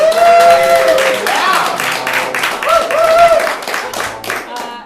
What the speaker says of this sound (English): Thank you for the pity claps.